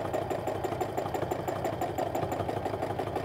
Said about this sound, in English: You could hear that sewing machine just revving and figuring out what I wanted to do with it.